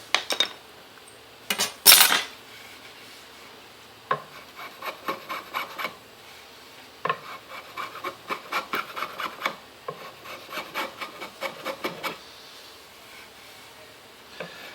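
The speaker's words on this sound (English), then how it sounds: "I just think there's something nice about slowly chiselling away." A hand chisel pares wood on a guitar body being made from old stage floorboards, giving rhythmic scraping, rasping strokes in short bursts, close and clear with pauses between and no talk.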